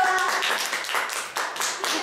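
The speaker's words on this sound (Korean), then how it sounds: "박수." Young children clap together in a daycare during a fire-safety lesson, a run of quick, fairly even bursts of many small hands close by, with voices mixed in.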